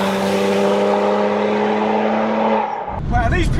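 A 510 WHP manual BMW 135i convertible with Pure600 turbos accelerates hard, its engine droning loudly and steadily at close range before cutting off abruptly near the end, followed by a brief jumbled burst of noise.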